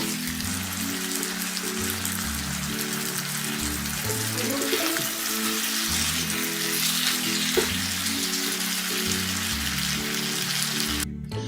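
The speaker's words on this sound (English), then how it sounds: "so now I'm gonna fry my tortillas. My oil is hot, it might be too hot." Tortillas fry in very hot oil with a loud, continuous hiss and crackle close by, steady throughout, over faint background music.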